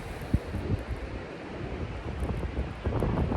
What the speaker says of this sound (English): Things are getting crazy here. Wind's pounding.